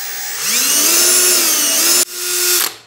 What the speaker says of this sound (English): my plan here is to drill a couple holes here for the staples